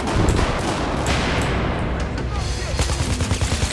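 Rapid bursts of RPK-74M light machine gun fire in the video game Battlefield 4, loud and close, with dense overlapping shots and booming impacts running continuously throughout.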